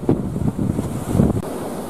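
Sea waves and a south wind at the entrance of a fishing harbor on Phu Quy island, heard as a short burst of gusty wind buffeting the microphone over rough surf.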